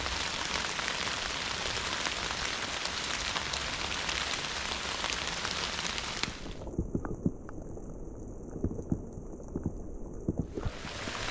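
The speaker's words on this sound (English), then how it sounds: "So we are in the middle of a huge rainstorm." A heavy rainstorm on a flooded mountain trail on Pine Mountain pours as a dense, steady hiss of rain with scattered close drips and drops, loud and continuous throughout, with its tone briefly muffled midway.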